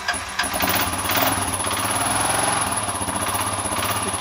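A Kawasaki KLR motorcycle engine runs after a crash in Peru, a steady close mechanical chatter with rapid rhythmic pulsing throughout and a sharp rise at the start as it catches.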